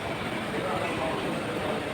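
Steady, broadband rumble and hiss from riding inside a Singapore MRT train, a continuous loud drone with no distinct breaks.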